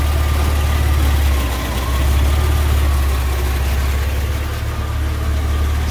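SAAB 9-3 car engine idling in a garage, a loud steady low hum that dips slightly a couple of times, with no voices.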